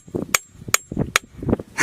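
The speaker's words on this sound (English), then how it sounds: "I want to try hitting it with a hammer" A hammer strikes an anvil floating in water, giving four sharp, close metallic clinks at roughly even intervals, with dull thuds and splashy handling noises between them.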